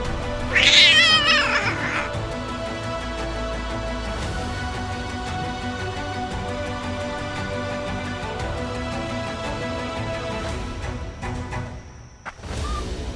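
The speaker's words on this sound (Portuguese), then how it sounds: "Nossa, que gato grande, hein?" A large cat lets out a loud, drawn-out yowling meow near the start, then a long stretch of quieter background noise with a brief thump near the end.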